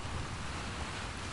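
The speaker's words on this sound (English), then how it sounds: "the water effects are gorgeous" Continuous broadband wash of water in a video game as a character swims, a steady rushing surf-like splash with no pauses, close and fairly loud, no talking over it.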